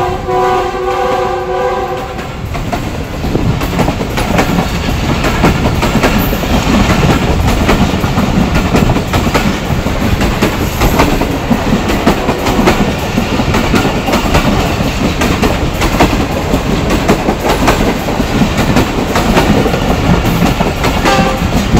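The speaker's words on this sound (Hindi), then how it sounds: "48 डाउन रहमान बाबा एक्सप्रेस पिशावर से कराची के दरमियान चलती है, जिसकी लीड पर है GU90" The Rehman Baba Express, led by a GU90 locomotive, passes close by. A short horn blast opens, followed by a loud, sustained rumble and rhythmic clickety-clack of wagons on the rails.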